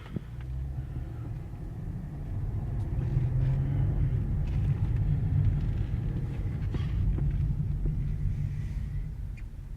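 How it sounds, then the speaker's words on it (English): A Cadillac CTS 4 pulling away after being shifted into drive, heard from inside as a steady low engine and road rumble that swells slightly and holds, with no talking. "So I'm going to put that back in park, and we're going to go for a quick drive."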